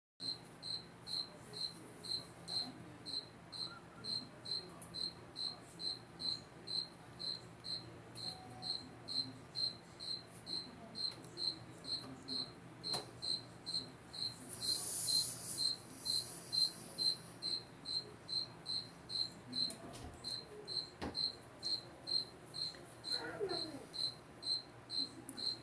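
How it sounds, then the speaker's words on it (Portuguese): Crickets chirp in a steady, rhythmic pulse throughout, bright and continuous, with faint background rustles and a brief louder noise midway. "Só o som dos grilos."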